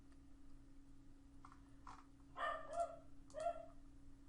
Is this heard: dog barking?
yes